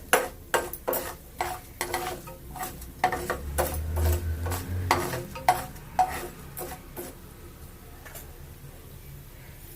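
Rice, about a spoonful of ordinary cooking rice, tipped into a hot pan and stirred, giving a run of sharp scraping clicks from the spoon with a soft sizzle underneath, fading to quieter stirring toward the end.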